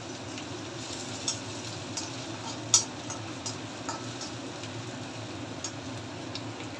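Garlic and green chillies sautéing in a pan give a soft, steady sizzle, with a few faint clicks and taps of a spatula against the pan scattered through. Nobody speaks.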